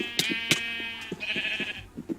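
Sheep in Minecraft bleat several times in quick succession, the wavering calls clear and fairly loud and close, with a few soft thumps between them and no talking.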